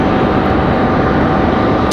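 An airplane on final approach at Raleigh-Durham airport gives off a loud, steady jet roar that holds level for two seconds without a break.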